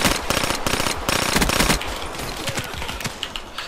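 Rapid automatic gunfire from the Equalizer gun in a shooter video game, dense bursts of shots rattling off in quick succession with brief pauses, loud and continuous throughout.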